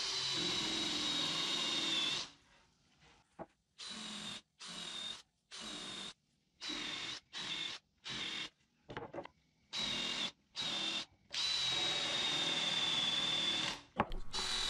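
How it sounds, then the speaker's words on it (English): A power drill whines in repeated bursts as a 3/8-inch spade bit bores about half an inch into wood, with short pauses between runs and a long final run. "I'm going to use a 3/8 bay bit and drill about a 1/2 inch deep hole"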